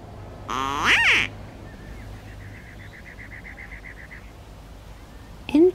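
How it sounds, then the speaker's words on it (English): Ducks in a video game quack after being drawn by a small noisemaker; one loud, harsh quack opens, a soft rapid series of quacks follows, and another loud call closes. "This noisemaker seems to appeal to the ducks."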